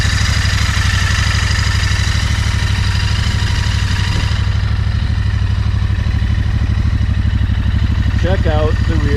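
A Royal Enfield Interceptor 650 motorcycle idles up close, its engine giving a steady, even low throb with a mechanical clatter layered on top throughout. A brief voice-like sound is heard near the end.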